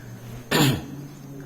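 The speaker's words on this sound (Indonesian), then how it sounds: "lumayan batuk ya" A single harsh cough bursts out close by, short and loud against a quiet, humming room during a Quran recitation class.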